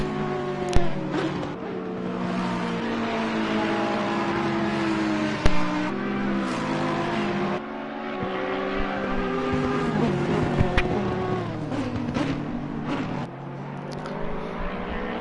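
Race cars, including a Ferrari, circulating at Oulton Park circuit during a race, with a steady loud engine drone and shifting pitches as cars brake and accelerate, plus a couple of sharp knocks, no voices.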